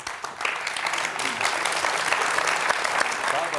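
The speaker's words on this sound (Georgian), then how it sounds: "აპლოდისმენტები." A television studio audience breaks into brief, dense clapping, close and steady for a few seconds at a health talk show.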